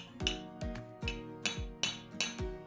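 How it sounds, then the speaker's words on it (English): Six sharp metallic hammer taps driving a pin into a gearbox hand wheel ring out at an even, steady pace, each strike leaving a short bright ringing tail. "I'd hammer it into your hand wheel just a little bit."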